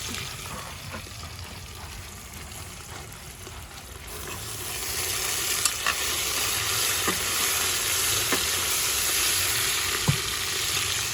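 Tomatoes fry and are stirred in a pan for vegetable biryani. A steady sizzle grows louder partway through, broken by occasional light clicks and scrapes of the stirring spoon, with no voices.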